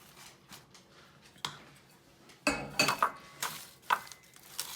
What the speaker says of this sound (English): I'm going to take the graham crackers and press them into the bottom of the springform pan